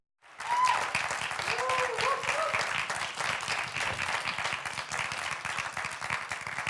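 A studio audience on a talk show breaks into sustained applause that starts abruptly and holds steady for several seconds, dense clapping from many hands, with a brief whistle early on.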